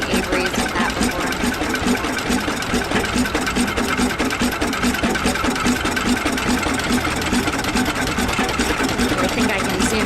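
Antique Avery tractor with a two-cylinder opposed engine running steadily close by, a fast even chugging beat that holds throughout, with faint talk in the background.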